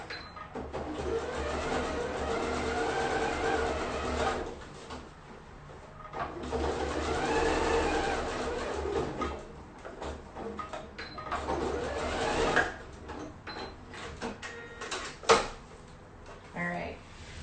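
A sewing machine stitches across a zipper pouch in bursts, with pauses between runs, and a person talks over parts of it.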